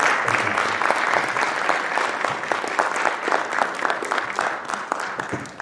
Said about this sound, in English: How about a round of applause for Coach Wayne Mazzoni?